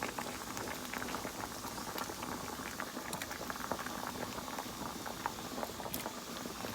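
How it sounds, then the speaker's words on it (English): Steady bubbling and rolling of water boiling in a pot, a dense continuous patter with small pops, close and moderately loud, no voices. "since the water was already boiling"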